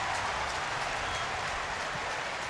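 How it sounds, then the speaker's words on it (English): Steady rain falls over an outdoor baseball game, a dense even hiss of drops that holds at the same loud level throughout with no breaks and no voices over it. "the rain falling, a little heavier than it was before"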